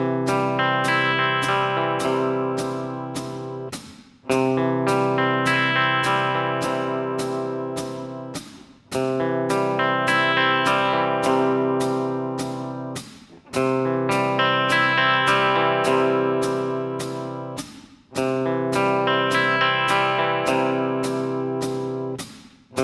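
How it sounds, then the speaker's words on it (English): Electric guitar playing clean amp tones through a Strymon Iridium with an Xotic Super Sweet pedal: five ringing strummed chords, each left to sustain and decay for several seconds before the next. "let's look at how the pedal influences some clean amp tones"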